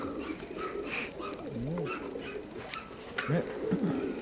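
Pigeons of the Mykolaiv breed cooing in winter, repeated close, throaty coos and rolling calls with short gaps, over a low background murmur and faint voices.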